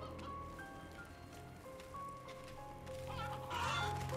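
Birds cluck and chirp in short scattered calls at a farm in the MediEvil video game (2019 remake), steady and moderately loud over a constant game ambience.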